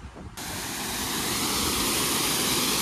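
An old-style working water mill at Sachkhere with water running through it, a loud steady rushing roar that starts abruptly after a moment and holds constant, close by, with no talk.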